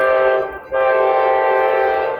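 A 12,000 to 18,000 horsepower freight train sounds a loud, sustained horn with a rich stack of tones, cutting off briefly and then resuming and holding steady close by.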